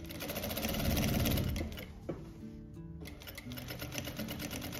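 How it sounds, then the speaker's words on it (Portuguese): A domestic sewing machine with a topstitch presser foot runs a seam along the edge of fabric for children's underwear, a fast close whirring burst that pauses briefly and then resumes, no talking. "Passando a costurinha bem na beirada. É que eu tenho esse pezinho de pesponto, ele ajuda muito."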